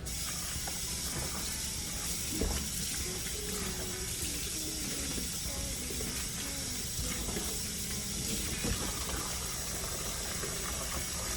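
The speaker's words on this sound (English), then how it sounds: "you will run the water over the mask until it runs clear" Tap water runs steadily into a sink over a silicone mask being rinsed, a constant even rush with faint handling knocks beneath it and no talk.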